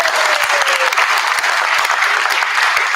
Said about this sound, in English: Ladies and gentlemen, I want a great round of applause